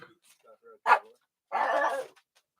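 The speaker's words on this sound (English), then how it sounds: "There's Barks for you." A dog barks at home: a short sharp bark followed after a pause by a longer, louder bark or whining yelp, both close, with soft small sounds between.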